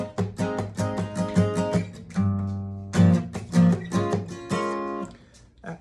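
Acoustic guitar played with a capo strums the chorus of a song in a steady chord rhythm, close and clear with no voices.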